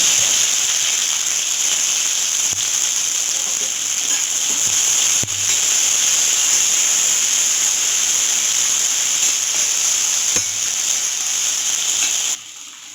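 Onion sizzles in hot oil with mustard seeds for a fish curry, a steady loud hiss that holds without a break for many seconds before dropping off at the end.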